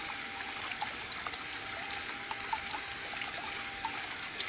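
Water swishing dirt through a gold pan, a continuous close washing and trickling with small splashes and gritty ticks at a steady level.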